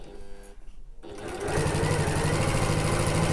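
A sewing machine back-stitches over the angled end of a zip on a backpack, starting after a brief pause and then running steadily in a close, buzzing whir.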